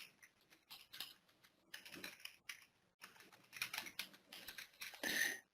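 Faint, quick bursts of typing on a computer keyboard as a password goes in, irregular clusters of light key taps close to the microphone, with a last busier flurry.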